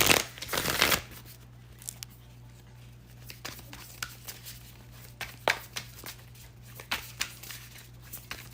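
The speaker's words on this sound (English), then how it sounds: "I'm just going to shuffle and just to get the bottom of the deck." A deck of tarot cards is shuffled by hand: a loud riffle at first, then a series of soft, irregular card slaps and shuffles, close by and quiet, over a low steady hum.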